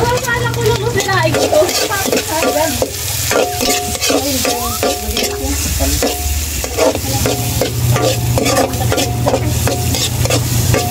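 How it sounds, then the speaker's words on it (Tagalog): Onion and garlic hit hot oil in a pan for sweet and sour fish, giving a loud, steady sizzle with stirring scrapes and a voice in the background. "Kaya lagyan natin ang sibuyas at bawang."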